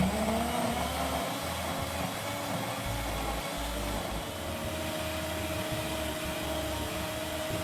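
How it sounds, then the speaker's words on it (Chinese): A blender grinds soaked, softened dried chilies, chopped spices and a little water in a steady, loud, continuous whir that holds without a break from start to finish. "将切好的食材全部倒入搅拌器内，泡软后的辣椒干，再加一点水，比较容易搅拌。"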